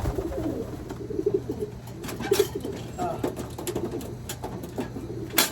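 Pigeons coo repeatedly at close range in a bird-keeping setting, with soft rhythmic calls over a steady background hum and brief human voices and exclamations mixed in.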